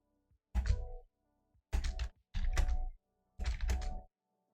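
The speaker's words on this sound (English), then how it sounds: "Sorry if my typing is getting picked up by the mic right now." Typing on a computer keyboard at a desk during a stream, heard as four separate bursts of clattering keystrokes, fairly close and clear, with silence in between.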